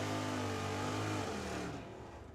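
Mustang drag car launching down the track at a drag race, a loud engine roar that holds steady then drops away as it pulls off into the distance, brief and without voices.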